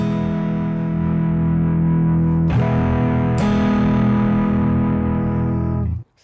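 A sustained electric guitar chord rings out with overdriven, distorted tone from a drive pedal blended in within Ableton, restruck twice, loud and close, then cut off.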